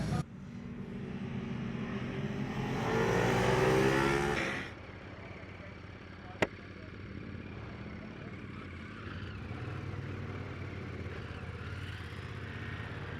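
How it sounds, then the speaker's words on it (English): Ducati Monster SP motorcycle on a race track during a track day, its engine rising to a loud, rough revving peak before easing off into a steady, lower drone, with one sharp click partway through. "On to my first proper bike track day on the Ducati Monster."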